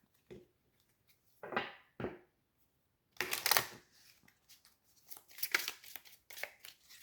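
Tarot cards being shuffled by hand, in several quick riffling bursts of papery flicks and slaps, close and fairly crisp with short pauses between.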